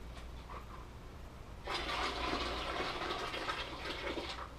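Tap water rushes into a cooking pot being filled for dyeing a paintball mask. It starts abruptly after a quiet stretch, then keeps up as a loud, steady gushing stream.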